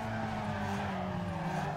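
A car in the racing game Need for Speed Underground 2 brakes hard, its tires skidding and squealing in a steady screech over the engine drone.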